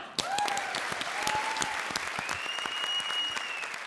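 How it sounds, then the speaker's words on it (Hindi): Loud, sustained studio-audience clapping on the Comedy Circus TV comedy show, dense and steady throughout, with a few tonal musical cues ringing over it. "जोरदार तालियां।"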